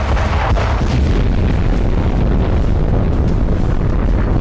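Continuous heavy rumbling booms and roaring blasts, loud and dense, hundreds of cluster bomb explosions going off together on impact in Ukraine, with wind-like noise throughout.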